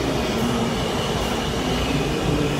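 Washington DC Metro Orange Line subway train rumbling steadily inside an underground station, a loud continuous roar with rail noise and no talking.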